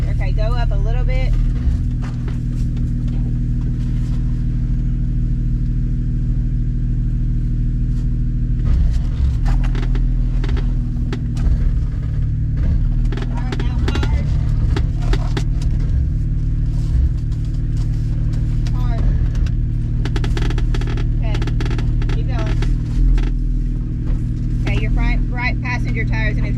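A rally car on passenger tires grinding up a hill during a 14-hour endurance rally, its engine a loud, continuous low rumble from inside the cabin that surges under load, with people talking over it now and then.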